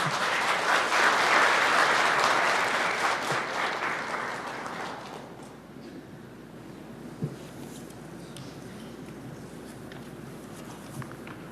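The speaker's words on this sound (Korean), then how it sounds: "여러분 뜨거운 박수 부탁드립니다" Audience at a Labour Day ceremony applauds as a business federation chairman is invited to the stage: full, warm clapping for about four seconds, then it tapers into a quiet room with scattered footsteps and small knocks.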